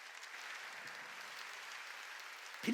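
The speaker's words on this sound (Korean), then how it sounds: "박수로 하나님께 영광 돌려." Congregation applauding during a church sermon, a steady broadband patter of clapping at moderate level for the full stretch, ending with a brief louder sound.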